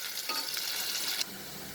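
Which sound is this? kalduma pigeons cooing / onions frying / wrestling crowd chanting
onions frying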